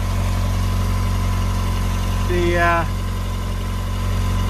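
Lotus Elan SE M100 engine idling steadily during a timing check, a constant low hum throughout, with a brief chirping squeal near the middle and a word spoken.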